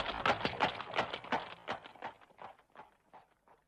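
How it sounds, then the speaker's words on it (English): Hooves of four strong horses pulling a big wagon clip-clop in a quick, steady rhythm, close at first and then fading into the distance, with no voices. "4 strong horses pulled the big wagon"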